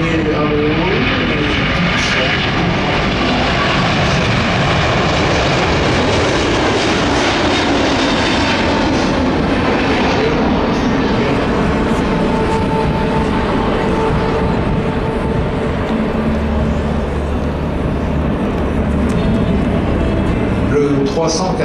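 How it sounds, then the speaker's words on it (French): An Airbus A380 jet airliner accelerates down the runway and climbs away at the Paris Air Show. It makes a loud, continuous roar that fills the whole stretch without let-up. "L'avion est relativement léger, il accélère bien, hein, il accélère fort"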